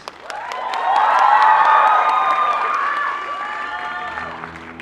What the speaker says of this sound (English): let us all give a huge round of applause to our finalists